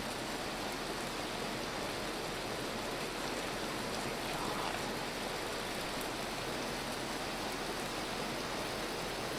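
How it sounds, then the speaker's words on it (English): Hail pours down as a temporal storm approaches in the survival game Vintage Story, a dense, unbroken hiss of pelting ice and roaring wind that holds steady and loud throughout. "Hail and the temporal storm approaching."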